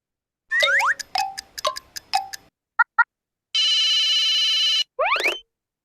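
A telephone rings with a sequence of chirping electronic tones, a few short beeps, then a long sustained buzzing ring and a final rising trill, loud and clear with no voices.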